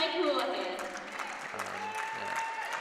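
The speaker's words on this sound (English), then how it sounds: "And the Jumbos give them a round of applause as well." Applause from a women's college volleyball team and the gym crowd after a Division III regional semifinal, a steady spread of clapping sustained for a few seconds with a commentator talking over it.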